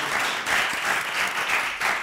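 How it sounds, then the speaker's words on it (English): Audience applause fills the room at a live World Radio Day 2020 broadcast, a steady, dense clapping that runs evenly for about two seconds with slight swells. "Give him a round of applause."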